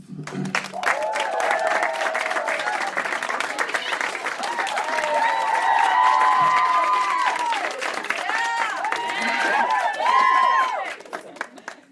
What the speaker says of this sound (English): Thank you for the organic applause.